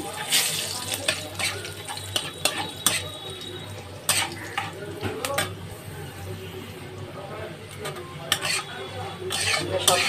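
Fried bitter gourd stirred together with a tempering of fenugreek seeds, dried red chillies and bay leaf in oil, giving repeated clattering spatula scrapes against the pan over a soft sizzle, close and fairly busy.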